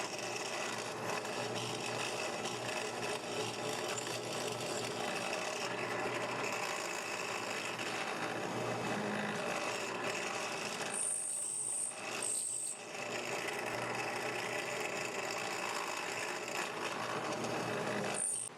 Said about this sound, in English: using a 3/16 inch brad point drill bit, bore the remaining depth on the center hole